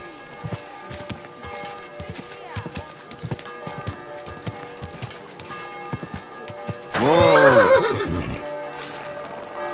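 Steady clip-clop of horse hooves plods along in Kingdom Come: Deliverance II, then a horse lets out a loud, close whinny while a person briefly exclaims.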